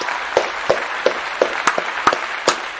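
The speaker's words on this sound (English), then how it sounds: "let's clap it up one more time" Sparse audience clapping, a handful of separate claps spaced roughly every third of a second, fairly close and moderately loud over a low background hum.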